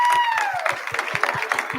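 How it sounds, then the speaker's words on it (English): Short round of applause from a school audience for students who performed a play of Aesop's Fables and the Iliad, a fairly loud patter of clapping with a tone sliding down at the start. "So please give them one more round of applause."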